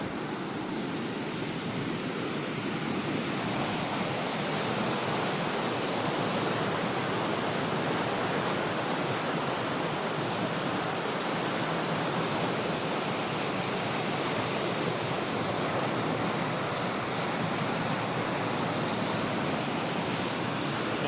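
Steady, broadband rushing of a waterfall along a trail off the Icefields Parkway in the Canadian Rockies, Alberta, fills the whole stretch, loud and continuous with no breaks or voices.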